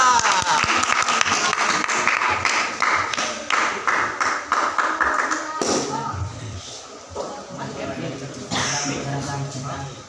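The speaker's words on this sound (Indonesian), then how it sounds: "Kasih tepuk tangan yang meriah" An audience at an Islamic boarding school speech event claps for a student preacher, a loud patter of hands that gradually thins, with scattered taps and shuffles and voices talking over the fading applause.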